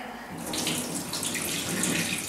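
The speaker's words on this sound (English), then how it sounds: "All we need to do is to empty the solution away" Sterilizer solution poured from a cup into a sink, a close steady splashing stream of water running throughout the short moment with no talk.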